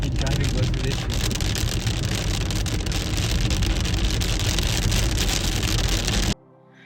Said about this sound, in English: the hail kept getting louder and louder and louder